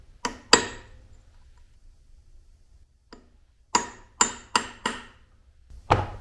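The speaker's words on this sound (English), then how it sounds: "Then we take a small punch and set this locker." A small metal punch is tapped with a hammer to stake the clutch lock nut on a 2007 Honda CBR 1000 motorcycle: about eight sharp, ringing metallic taps, two early, one faint, then a quick run of four and a final strike.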